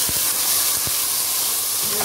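Loud continuous sizzle and hiss as washed khichdi rice and lentils hit a hot tempering of mustard seeds, cumin and asafoetida, with a few soft clinks of stirring.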